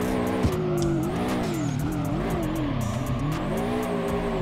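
A Toyota AE86 with a boxer engine drifts in the racing game DRIFT21, its engine note rising and falling steadily under continuous tire squeal and skidding, loud and close with no talk.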